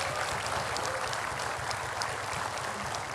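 Applause from the audience at a live outdoor community event in Jakarta, a steady dense wash of clapping that holds at an even level for a few seconds, with no voices over it.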